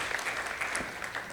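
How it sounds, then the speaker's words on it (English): Steady applause from an audience, a dense wash of many hands clapping continuously at moderate volume. "We're clapping, they're standing."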